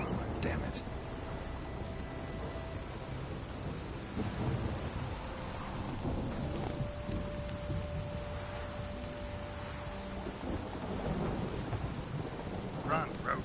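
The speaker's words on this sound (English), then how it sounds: "A storm, damn it." Thunderstorm in The Witcher 3: steady rain hiss with low rumbling thunder rolling through, a sustained, moderately quiet wash of weather noise for over ten seconds.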